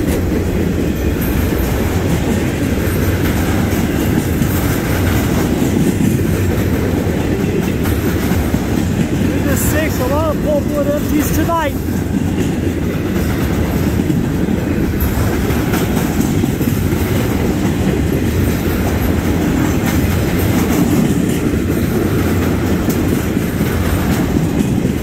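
CN freight train with sand empties rolling past in Ladysmith, a steady loud rumble and wheel noise filling the whole stretch, with a brief squeal midway.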